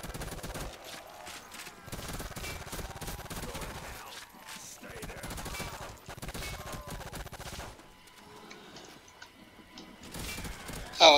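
A Tommy gun fires in bursts in Call of Duty: World at War on an abandoned school zombie map, with moderately loud rattling volleys separated by brief pauses and some faint mixed game noise.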